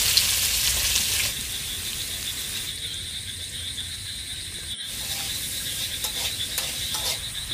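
Chopped onion, ginger and green chili sizzle in hot oil in a pan, a steady close hiss of frying that stays loud throughout, with faint clinks from stirring.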